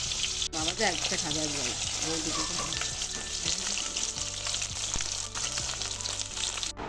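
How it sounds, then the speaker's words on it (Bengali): Fish fries in hot oil for a Bangladeshi shankar fish curry, a steady crackling sizzle running throughout while a person talks over it. "এদিকে মাছগুলো ভাজা হচ্ছে"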